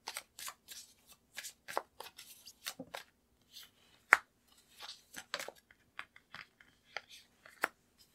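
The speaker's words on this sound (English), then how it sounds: "I'm going to pull a tarot card for each of these" Tarot cards being shuffled and pulled from a deck, a series of soft, close riffling and snapping card sounds in short irregular bursts against a quiet background.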